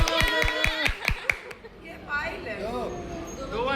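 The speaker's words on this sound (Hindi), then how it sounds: "चलो बजा दिया जाए दूसरी ताली।" At a niece's Indian wedding celebration, a quick burst of about six rhythmic hand claps sounds close by, then lively overlapping voices and chatter take over.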